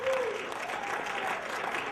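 An audience claps steadily for a volunteer, a dense burst of applause from a crowd indoors with some voices mixed in.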